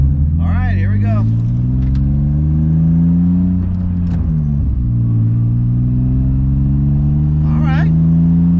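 A heavily modified BMW E36 idles loudly from inside the cabin, a deep throbbing drone with a short throttle blip midway, while someone talks briefly over it.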